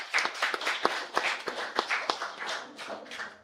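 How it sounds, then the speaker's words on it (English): A workshop audience breaks into scattered applause, many hands clapping unevenly and close by for a few seconds. "Give a round of applause"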